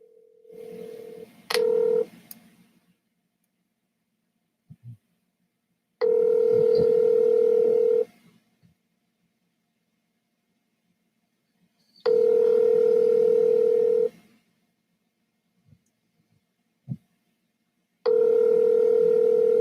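A telephone call is dialed with quick keypad tones, then the line rings. Steady two-second ringback tones repeat at even intervals, with small faint noises in the quiet gaps between them.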